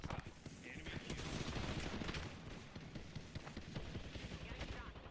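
Dense, continuous video game gunfire, rapid automatic bursts mixed with other combat effects, loud and sustained throughout with no clear pauses.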